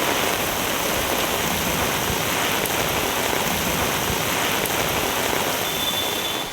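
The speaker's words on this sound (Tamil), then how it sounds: "திடீரென கருமேகங்கள் சூழ்ந்து கனமழை கொட்டி தீர்த்தது." Heavy rain pours in a sudden downpour around Aranthangi, Tamil Nadu, a dense, steady hiss that stays loud and even throughout with no voices.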